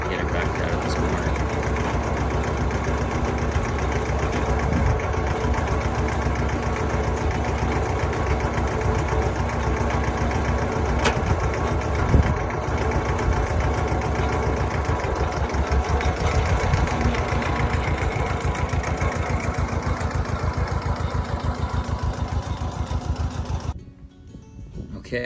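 An Iseki 1610 diesel mini tractor engine runs steadily and loudly up close, a continuous rough chugging idle, then cuts out abruptly near the end.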